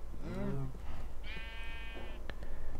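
Minecraft sheep give two clear bleats, one low and wavering, then a higher drawn-out one, fairly faint over a quiet background with a few soft clicks.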